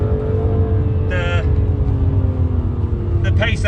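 A BMW M2 CS of 400-plus horsepower drives a handling circuit, its engine a loud, steady low drone with a brief rising whine from the tyres or drivetrain, as heard from inside the car.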